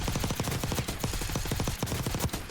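Suppressed gun fired on a firing range in the video game Warzone, a steady stream of rapid, evenly spaced muffled shots running continuously and close.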